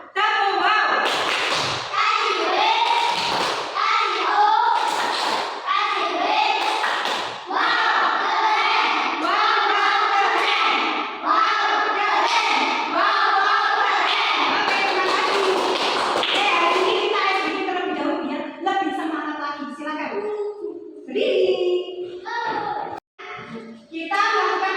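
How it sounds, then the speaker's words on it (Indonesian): Classroom children doing the 'tepuk wow' clapping routine, loud rhythmic claps and taps mixed with chanting and shouting voices close by, a teacher's voice joining in. "Kita tepuk wow ya. Tepuk wow."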